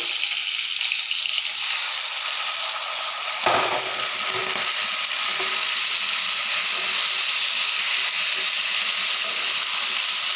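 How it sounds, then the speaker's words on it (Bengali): A spiced mixture seasoned with turmeric, salt and ghee fries in a pan with a dense, loud, continuous sizzle up close, broken by a single knock or stir partway through. "এটাকে ভাজা ভাজা করে তারপরে চালটা দিয়ে দেবো"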